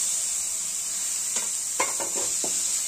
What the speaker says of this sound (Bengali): ঠিক আমরা এই পর্যায়ে টমেটোর কুচিগুলো দিয়ে দেব।